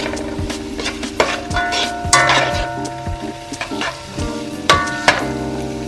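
Fish and okra sautéing over medium heat for Jamaican-style steamed fish, with a steady sizzle broken by close, repeated clinks and scrapes of a utensil stirring in the pan.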